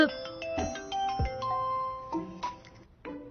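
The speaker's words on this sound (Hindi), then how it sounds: "ताओ का फोन है।" A phone ringtone plays a tinkling electronic melody of bright tones, moderately loud and continuous, with a voice briefly mixed in.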